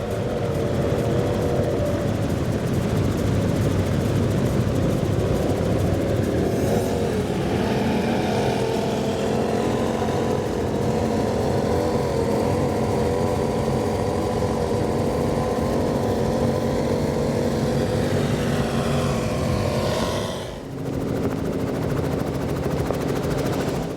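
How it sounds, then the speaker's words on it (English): Powerboats running on Mercury Racing 1100 engines during the Key West Poker Run, a loud continuous roar of engines and rushing water with wind buffeting, holding steady for over twenty seconds before a brief drop near the end. "Those Mercury Racing 1100s are doing their job."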